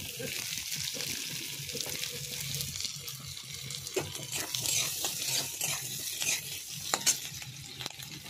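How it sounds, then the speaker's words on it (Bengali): Capsicum and onion fry in oil with garlic and green chili for chilli chicken, a moderate sizzle with frequent stirring taps and scrapes from a spatula against the pan. "এবার পেঁয়াজ আর ক্যাপসিকামটা আমি ভালো করে ভেজে নেব"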